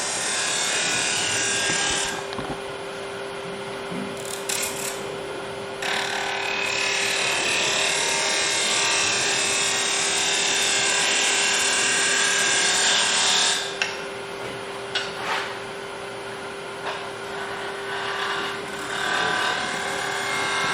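A gouge cutting a wooden goblet on a lathe, giving a loud, steady, close hiss and scraping that breaks off briefly a few times and resumes, over the constant hum of the spinning lathe.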